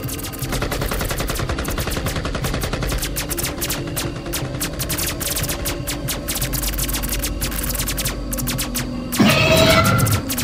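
Rapid gunfire in an animated Upin Ipin battle against aliens: loud, close, nearly continuous rattling bursts of shots, with a sharper, louder blast near the end.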